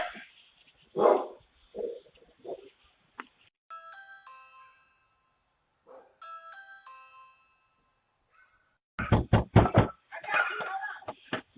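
A dog at a front door caught on a doorbell camera barks in short bursts, with a person shouting nearby, electronic chime tones, and a loud flurry of sharp knocking.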